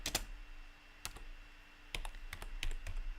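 Typing on a computer keyboard: isolated clicks and short bursts of keystrokes with irregular rhythm, close and moderately loud over a faint steady hum, with no talking.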